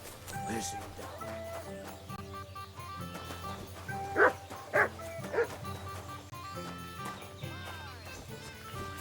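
A dog in Kingdom Come: Deliverance II on PS5 gives three loud, sharp barks in quick succession midway, with yips around them and game voices talking underneath.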